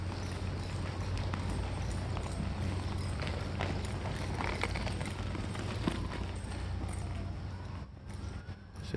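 Haflinger horse led in hand, its hooves clip-clopping steadily at a walk and trot, with a continuous outdoor rumble beneath and no talk.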